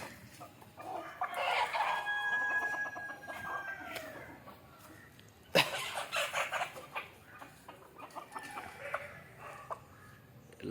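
Country chickens cluck busily around a coop opened in the morning, while a rooster crows loudly and close by, over a continuous backdrop of softer clucking and farmyard bird calls.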